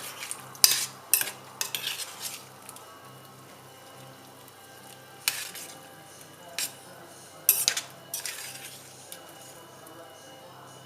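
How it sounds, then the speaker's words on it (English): A spoon stirs a pot of Cadiz-style soup with onion and lime, bursts of scraping and metallic clinks separated by quiet pauses. "Give it a stir."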